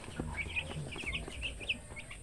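Soft, scattered clucks and chirpy calls from young broiler chickens, fairly quiet against a low background hum, with no talking.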